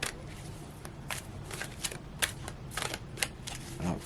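A deck of tarot cards is shuffled close up in a run of quick, uneven riffling bursts and soft slaps, with no talking.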